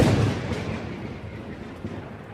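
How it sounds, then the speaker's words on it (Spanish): A massive atomic bomb blast over Nagasaki rendered as a loud, deep rumbling roar that starts strongest and slowly decays over a couple of seconds, with no voices. "Estruendo y explosión."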